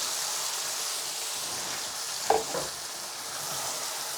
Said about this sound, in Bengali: এখন দিয়ে দিব মেখে রাখা মাছ আর বেগুন।